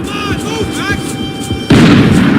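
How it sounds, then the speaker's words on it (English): Long-range gunfire in the video game Max Payne 3, heard as a steady rattle of distant shots with whistling, warbling tones over it, then a sudden louder burst of heavy fire that keeps going to the end. "The bullets came from long range."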